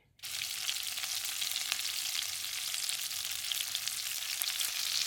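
Shrimp sizzling in garlic butter in a pan, a steady bright frying hiss with small crackles that starts suddenly and holds evenly throughout, close and fairly quiet.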